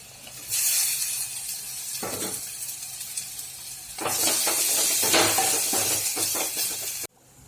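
Tomato and gram flour hitting a hot pan of roasted wet and dry spices for masala egg curry, sizzling loudly with a steady hiss, broken by a brief dip and occasional stirring scrapes, with no talk.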